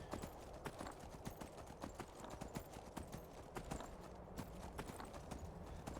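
Quick, steady hoofbeats of a horse galloping in modded Skyrim, a continuous rhythmic clip-clop at low level with no talk.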